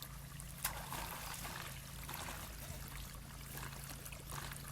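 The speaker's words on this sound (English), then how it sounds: "Now water is discharging out of this outlet" Water discharging steadily from the outlet of an Oase Filtoclear pond filter during backwashing, a continuous near splashing rush with a low mechanical hum beneath.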